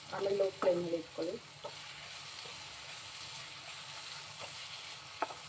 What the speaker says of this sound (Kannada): ಅಲ್ಲಿವರೆಗೂ ಸ್ವಲ್ಪ ಫ್ರೈ ಮಾಡ್ಕೊಳ್ಳಿ ಎಣ್ಣೆಯಲ್ಲಿ